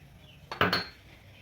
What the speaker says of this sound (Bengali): এর মধ্যে আমি কড়াটা বসিয়ে দেবো।